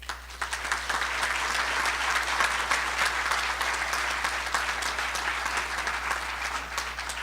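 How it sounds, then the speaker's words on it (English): A graduation ceremony crowd at an international prep school claps after scholarship winners are named, producing sustained, even applause at moderate level over a low steady hum. "I'm going to pause for a little suspense and a round of applause after each name."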